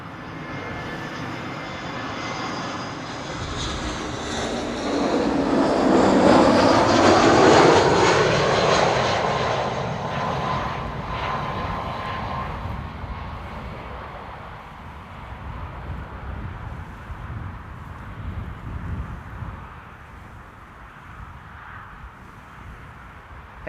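Airbus A320 airliner arriving at Amsterdam Schiphol, engine roar building from a distance to a loud close pass with a descending whine, then fading into a lingering rumble and wind.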